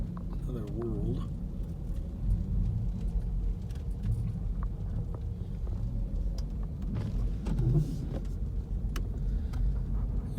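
A car drives slowly in one-lane traffic over snowy Loveland Pass in the Colorado mountains, with a steady low engine and road rumble throughout and a person talking briefly over it.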